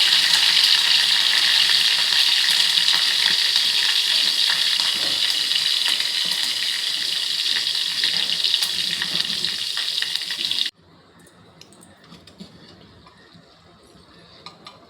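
Curry leaves, dried red chillies and asafoetida hit hot oil in a steady, loud hissing sizzle that cuts off abruptly near the end, leaving faint kitchen sounds.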